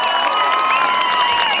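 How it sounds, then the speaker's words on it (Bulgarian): A crowd at an outdoor Christmas lights celebration in Burgas, Bulgaria, cheers and applauds for Mari, a world breaking champion, in a dense, steady roar of clapping and shouting with high children's voices mixed in. "Аплодисменти за Мари!"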